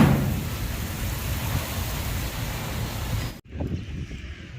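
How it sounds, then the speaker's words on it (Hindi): Heavy stormy rain pours down on a village in a dense, steady roar, with a brief drop near the end before the downpour resumes more quietly. "अभी बारिश है, तकरीबन 1 घंटा हो गया है। शदीद तूफ़ानी बारिश।"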